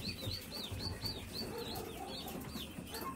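Chickens, including a black hen, clucking and chirping in a repeated rhythm at a farmyard spot, fairly close over a steady low background rumble.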